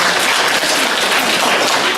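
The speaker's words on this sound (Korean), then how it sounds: "박수." Loud, dense applause from an audience of parents at a mathematics academy information session, a continuous wash of many hands clapping at once with no talking over it.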